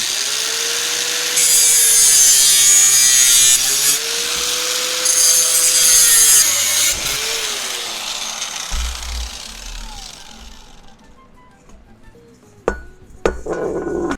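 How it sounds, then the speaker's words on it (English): An angle grinder cuts metal nearby, a loud harsh whine and scraping roar that rises and dips in two long bursts, then winds down to near silence before a couple of sharp clanks. "we're gonna have to angle grind this shit."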